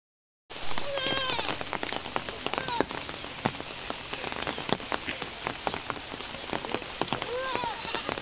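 Steady rain drums on a surface for most of the day-long downpour, with goats bleating now and then beneath the close, constant patter.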